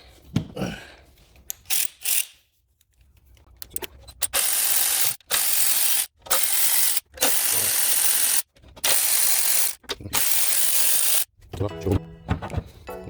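Tool removing bolts from the engine of a 2007 Ford Edge during a spark plug tune-up, loud repeated bursts of whirring noise separated by short pauses, close up, with brief talk at the start.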